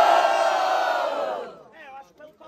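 Loud crowd at a student rap battle cheering, shouting and whooping for about a second and a half, then fading into scattered individual shouts.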